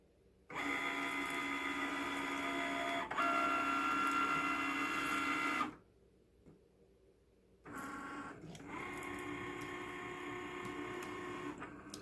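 A Cricut cutting machine cuts fabric for a face mask, whirring mechanically in two bursts of roughly five and four seconds separated by a short quiet pause, with no talk.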